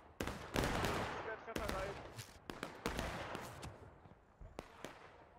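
Musket volleys from a War of Rights battle, a Civil War multiplayer game, crackle as repeated sharp shots of varying distance, some clustered, some isolated, with faint voices in the background.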